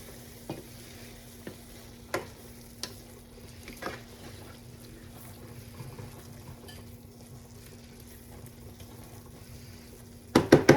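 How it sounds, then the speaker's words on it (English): Broccoli in sauce bubbling in a covered pan, a soft low simmer with occasional light taps and clinks, quiet throughout, ending with a few louder clattering knocks. "Let's cover her up now and let it come to a good simmer"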